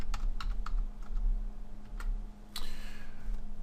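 Keys on a computer keyboard tapped in a short irregular burst while entering a payment amount, crisp clicks over a steady low hum, no voices.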